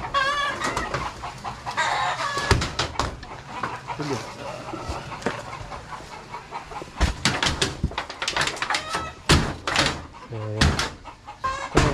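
Chickens cluck and a rooster crows in a backyard flock of fowl, with several birds calling near and far while someone talks over them intermittently.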